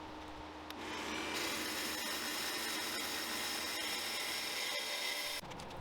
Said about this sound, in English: I'm going to move on to cutting a chunk of 4-inch stainless steel spool piece that I have.